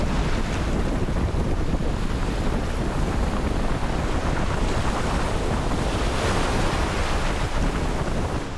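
Strong wind roars across a sailboat nearing the Icelandic coast at Raufarhöfn, with constant broadband gusting, buffeting against the microphone and rushing surf along the hull, loud and unbroken throughout.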